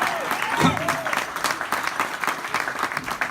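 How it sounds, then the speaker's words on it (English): An audience at a music industry victory party applauds for the House and the Senate, a dense burst of clapping that swells early and carries on steadily, with a speaking voice and cheers mixed in. "Round of applause for the House and the Senate."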